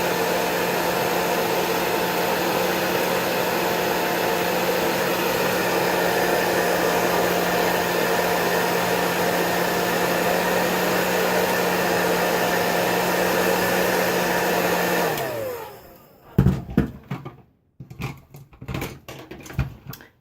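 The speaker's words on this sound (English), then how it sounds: "I take my blow dryer," A blow dryer roars steadily at close range while drying freshly applied mascara on eyelashes, a constant whooshing hum for about fifteen seconds, then winds down and switches off, followed by light handling noises.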